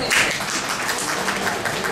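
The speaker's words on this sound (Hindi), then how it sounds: "है या तालियां तो होनी चाहिए।" Audience applause at a live stage show, a dense steady wash of clapping that holds at even strength from start to end with no talk over it.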